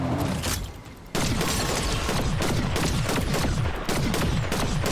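Dense bursts of rapid Fortnite gunfire and booms, loud and chaotic, with a brief lull before the firing resumes heavily.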